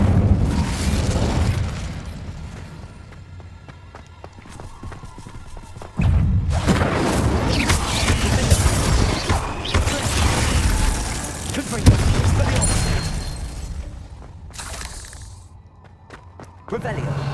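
Fiery spell blasts crackle and boom in Hogwarts Legacy as the Incendiary charm is cast repeatedly, loud bursts hitting around 6 and 12 seconds amid cave combat, with a voice talking over parts of it.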